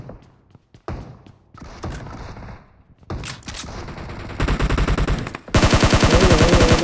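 Rapid gunfire bursts from a mobile shooter game, starting as sparse shots and building into dense, loud automatic fire toward the end, with no talking.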